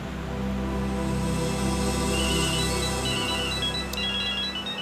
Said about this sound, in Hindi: फिर से फोन बजने लगा भाई।